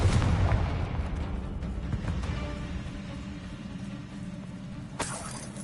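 A Confringo fire spell explodes in Hogwarts Legacy with a heavy boom at the start that rumbles away, followed by a quieter sharp burst near the end.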